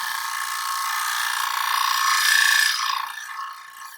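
A tool scrapes at an angle across wood spinning on a lathe, making a steady hissing rasp for about three seconds that swells slightly before easing off.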